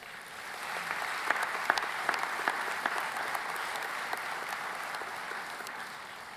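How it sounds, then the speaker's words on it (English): Graduates at a spring 2022 agricultural college commencement give a sustained round of applause, an even wash of clapping from a large hall with a few sharper claps standing out. "So I want all graduates to join me in giving a round of applause to say thank you to everyone who helped you reach this tremendous milestone."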